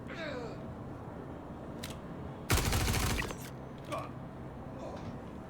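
One short burst of rapid gunfire at targets in the Star Citizen video game, loud against quieter creaks and mechanical handling noises before and after.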